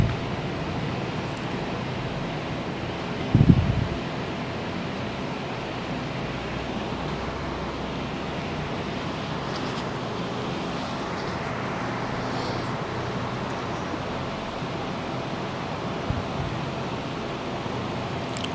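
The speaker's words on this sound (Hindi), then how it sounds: "क्योंकि पंखा भी चलता है, जैसे एक और पंखा चल रहा है उसकी आवाज़ को भी ये कैच कर लेता है" An electric fan running in a TV repair workshop, a steady broadband whoosh of moving air that continues throughout, with one brief knock partway through.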